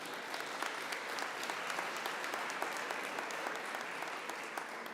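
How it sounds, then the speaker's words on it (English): Steady applause from a symposium keynote audience fills the whole stretch, a dense wash of clapping at moderate distance without pause. "yes, we can clap"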